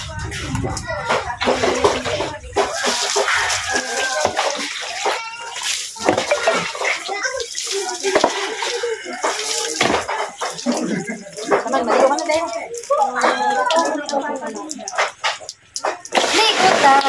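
Water splashes and sloshes through a bath while voices talk and laugh over it almost the whole time, a busy, close mix of splatters and speech.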